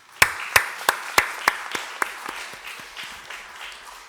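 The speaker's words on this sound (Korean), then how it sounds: "유나에겐 축복의 박수를 보내도록 하겠습니다" A Sunday service congregation claps in rhythmic unison, sharp loud beats at first that soon loosen and fade into softer, scattered claps.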